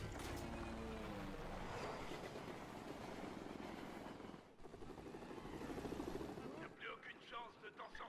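Helicopter from the Lego Dimensions video game, hooked to a train in a Mission Impossible level inside the Channel Tunnel, a steady loud rotor and engine drone mixed with rail rumble and game sounds, with a voice talking over it.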